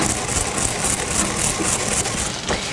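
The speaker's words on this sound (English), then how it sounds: "I'm just going to take a mortar and pestle and crush them" Toasted coriander seeds are crushed and ground with a mortar and pestle in a repeated, rhythmic gritty scraping, close and steady, with a sharper knock near the end.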